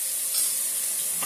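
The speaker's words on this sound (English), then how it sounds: "So I'm going to start with the garlic and just get that browning." Garlic browning in oil in a pan for tacos gives a steady, close, dense sizzle that hisses evenly throughout, with one or two slight swells and no voices.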